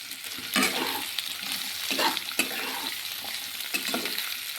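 Chopped ivy gourd fries in a pan with a constant close sizzle, broken by repeated bursts of stirring and scraping at a steady pace.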